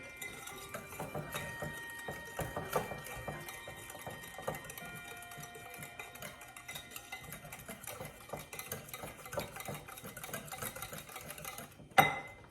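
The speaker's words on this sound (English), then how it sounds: "I'm going to beat it again until I get that incorporated as well as I can." A rice pudding mixture with cinnamon and allspice is beaten in a bowl, giving a continuous whirring, rattling churn with faint clinks and a louder knock near the end.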